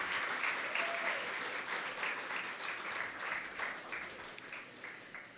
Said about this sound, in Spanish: Fuerte el aplauso para todos estos patrocinadores.